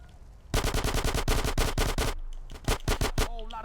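Rapid automatic gunfire in GTA San Andreas while shooting barrels, a loud dense string of shots in quick bursts followed by a few scattered single shots.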